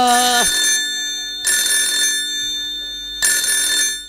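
A telephone rings in repeated bursts, a pulsing electronic trill with pauses between rings, clear and close.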